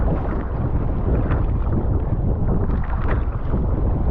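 Steady wind buffeting the microphone on a kayak trip on open water, a loud, continuous roar with gusty swells and no talking.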